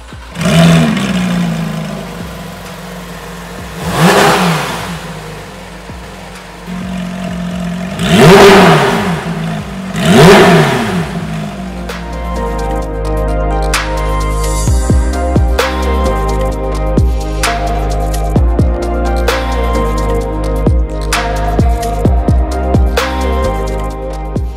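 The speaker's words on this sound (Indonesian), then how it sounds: "Suara tadi itu berasal dari mesin 4000 cc, 6 silinder, non turbo." A 2016 Porsche 911 GT3 RS's 4-liter naturally aspirated six-cylinder engine revs hard three times from idle, then settles into a loud, steady idle with rapid blips, close by.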